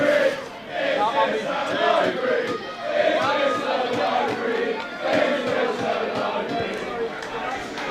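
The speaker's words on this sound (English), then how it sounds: "Very interesting chant coming from the crowd." A crowd chants and sings at a floodlit sports final, a rhythmic, sustained mass of voices filling the stadium and repeating a phrase in waves, loud and continuous.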